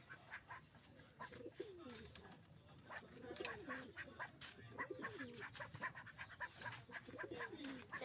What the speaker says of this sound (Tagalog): ayun yung ating kalapati